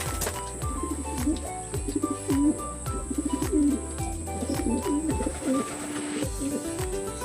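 Pigeons coo repeatedly in soft, rolling phrases close by, over a steady low hum, with a few brief flutters and chirps mixed in.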